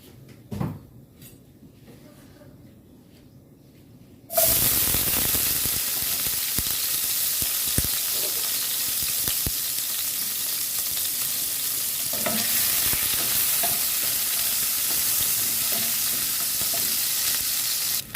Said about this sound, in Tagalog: Igisa natin ang onion, ginger, garlic at kamatis.